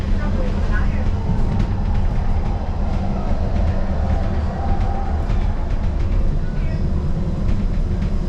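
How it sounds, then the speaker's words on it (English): Disneyland monorail gliding toward the Tomorrowland station, a steady loud rumble of rolling wheels and motor with faint clatter throughout, a voice talking over it. "We're now approaching the Tomorrowland Monorail Station, our final destination."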